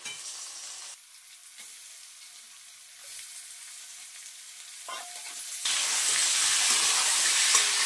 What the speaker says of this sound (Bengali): এবার আমি মাংসটাকে ছেড়ে দিই।